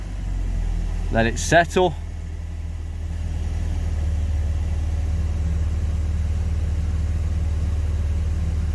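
Steady low car engine idle after an ignition timing change on a tune-up, a constant near rumble with someone speaking briefly at the start.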